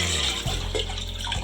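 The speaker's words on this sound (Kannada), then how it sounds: "ಒಂದು ಚೊಂಬಾಗೋಷ್ಟು ನೀರು ಹಾಕೋತಾ ಇದ್ದೀನಿ" Water pours steadily from a jug into a cooking pot for basmati rice in a drumstick biryani, a continuous splashing stream, close and fairly loud, with no talk.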